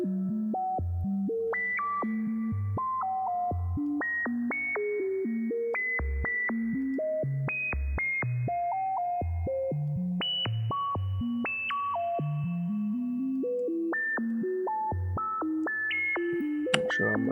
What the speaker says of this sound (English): You could put a delay on.